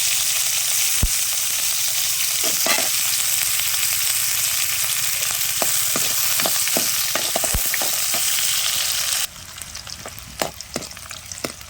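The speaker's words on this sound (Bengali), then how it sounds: "ওর মধ্যে পেঁয়াজটা দিলাম কড়ার মধ্যে। পেঁয়াজটা লাল করার জন্য খাঁটি সরষের তেল দিলাম।" Onion fries in mustard oil in a wok, giving a loud, steady sizzle with scattered sharp clicks and taps from stirring, easing slightly toward the end.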